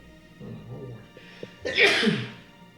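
A sneeze during a Disney-themed trivia podcast, a close, loud burst preceded by a brief intake of breath and soft murmuring.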